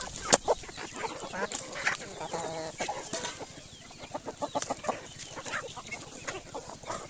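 Native chickens and ducks on a Bangladeshi poultry farm, with repeated clucking and squawking from several birds close by and a sharp burst near the start, with no talking.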